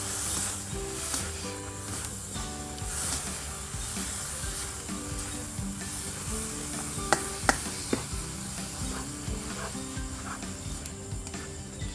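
Instant noodles with egg and cabbage sizzle steadily as they are stir-fried in a hot pan, with a continuous frying hiss and a few sharp scraping clicks of the utensil partway through.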